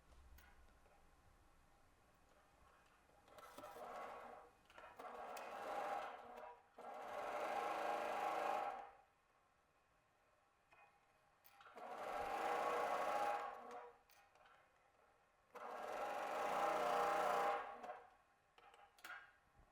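A sewing machine stitches in five separate bursts of rapid mechanical whirring, each lasting a couple of seconds, with quiet pauses between them.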